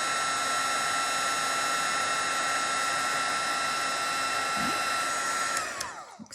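A heat tool blows steadily at close range, melting gold embossing powder on a Stampin' Up! card, a constant airy whir that cuts off and winds down near the end.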